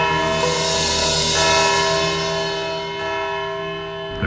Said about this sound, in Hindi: घंटी बज गई जसवंत साहब।